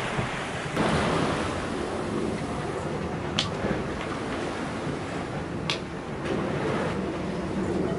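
Ocean waves wash and churn around a sailboat far out at sea in the Pacific, a continuous rushing surge mixed with gusting wind noise on the microphone.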